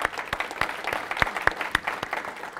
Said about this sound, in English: If we can give a round of applause to Peter,